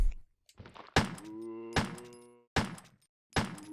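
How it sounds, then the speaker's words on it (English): In the original Resident Evil video game, a knife stabs a downed enemy with four heavy, evenly spaced thuds, each trailed by a ringing, buzzing decay. "While they're on the ground, you might as well take your knife out and stab them."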